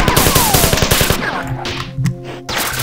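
Rapid video-game gunfire against aliens in Marathon level 5, starting as a loud close burst of evenly spaced shots and then giving way to scattered booms and electronic tones.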